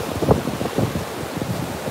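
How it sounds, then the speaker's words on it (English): Ocean surf breaking on a beach on a windy morning, irregular low swells and washes with gusty wind buffeting the microphone, no voices. "the waves are awesome. Such a beautiful sound."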